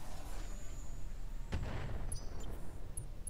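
A single artillery gun fires in the turn-based strategy game Battalion HQ, landing as one sharp, moderately loud report with a short rumbling tail, followed by a few faint high electronic blips.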